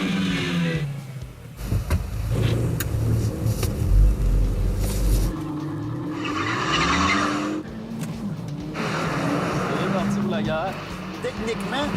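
A Nissan Sentra NISMO, Hyundai Elantra Turbo and Ford Focus ST roar and skid with squealing tires, engines rising and falling at close range, while people talk and shout over the noise.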